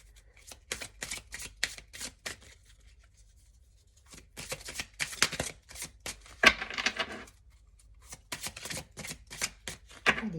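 Tarot cards are shuffled and a card is drawn from the deck, producing quick crisp riffling bursts in several clusters with short quiet gaps, close and fairly soft.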